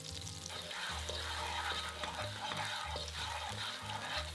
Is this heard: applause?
no